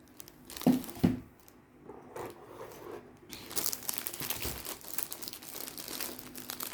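Plastic packaging around a box of markers crinkles and rustles up close, with a couple of sharp crackles early and then sustained busy crumpling.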